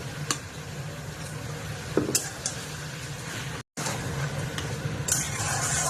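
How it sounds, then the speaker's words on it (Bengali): Ginger-garlic paste is stirred into onions in a hot pan, a continuous sizzle with repeated scraping stirs and occasional spoon knocks, briefly cut by a tiny gap. "তারপর এটা একটু ভালো করে নেড়ে নেবো"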